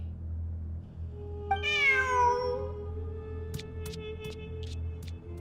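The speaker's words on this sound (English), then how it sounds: "Who's a good kitty?" A cat in the video game Genshin Impact gives one clear, rising then falling meow over a low steady hum, followed by faint sparkling chime-like tones.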